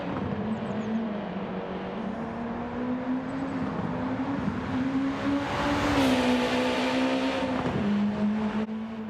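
A car driven flat out in the rain in Gran Turismo 7, the engine droning steadily with pitch rising and dipping through gear changes, a brief surge near the end, loud and continuous with no talk.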